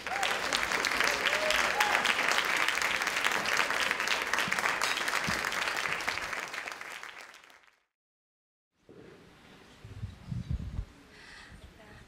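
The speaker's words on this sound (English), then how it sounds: "can everybody give one more applause to this amazing woman?" A luncheon audience at a women's celebration event applauds a speaker with full, sustained clapping for several seconds before it fades away to silence; faint room sounds and shuffling follow.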